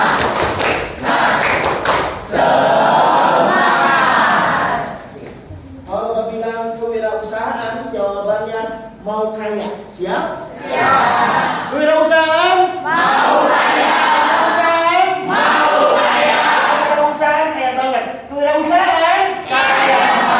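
Participants at a university teacher-training session do a rhythmic group clapping chant, loud patterned claps and thumps alternating with shouted, sung-out voices in repeated bursts, close and energetic.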